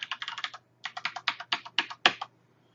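A password typed on a computer keyboard: two quick bursts of crisp, close keystrokes with a short pause between them, then silence.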